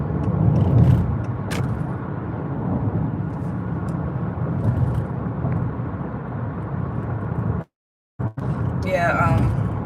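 Steady road rumble from a car driving home through thinning traffic, with continuous tire and engine noise, a brief dropout near the end and a voice speaking over it.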